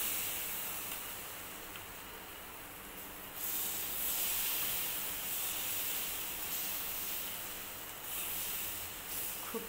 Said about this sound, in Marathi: तवा तापलेला आहे, आता आपण तव्यावर टाकून त्याची थालीपीठ तयार करून घेऊ